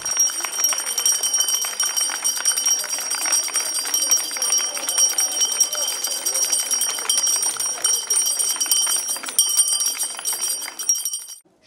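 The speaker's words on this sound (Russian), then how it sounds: "А пока для нас звучит первый в этом учебном году звонок." A school bell rings continuously for the first bell of the school year, a bright, sustained metallic ringing heard close and steady for about eleven seconds before it cuts off.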